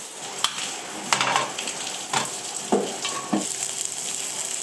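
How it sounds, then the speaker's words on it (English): Pineapple frying in a pan, with a steady sizzle and several sharp crackling bursts and stirring scrapes, close and loud with no talking. "Cooking pineapple."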